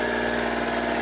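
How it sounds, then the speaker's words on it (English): A sailboat's inboard engine runs steadily while motoring on flat water with no wind, giving a continuous, even idle-like hum with a faint vibrating throb and no voices. "We've cleaned it up, we've been taking care of the engine"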